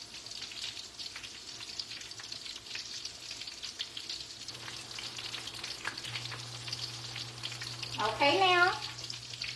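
Shrimp egg foo young patties fry in a pan with a steady, close crackling sizzle; a brief voice speaks partway through, and a louder scraping stir cuts in near the end.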